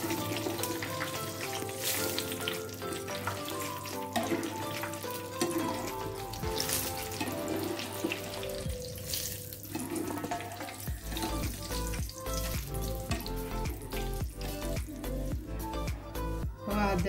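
Banana slices deep-fry into chips in hot oil, a loud continuous sizzle and bubbling with occasional stirring scrapes, close and steady throughout, with background music and no clear talk.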